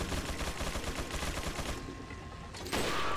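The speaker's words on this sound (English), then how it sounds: "Damn, this guy, he was running with a minigun?" Rapid, dense minigun fire in Resident Evil 4 rattles continuously for about two and a half seconds, then gives way to a louder burst of game noise.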